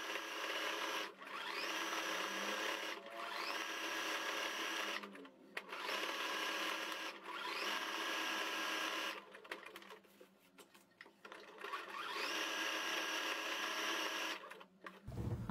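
A sewing machine zigzag stitching around the eye of a panda on a bath towel, running in several bursts of rapid whirring separated by short pauses, close and fairly loud, with no talking.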